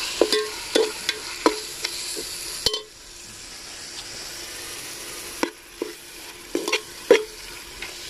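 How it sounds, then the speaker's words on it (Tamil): Chopped tomatoes sauté in oil for paneer biryani, a steady sizzle under repeated sharp taps and scrapes of a spatula against the pan, close and fairly loud, with no talking. "நல்லா தக்காளி பழம் உடஞ்சி மசிஞ்சு வந்து எண்ணெய் கீழ அளவுக்கு வதக்கிக்கணும்"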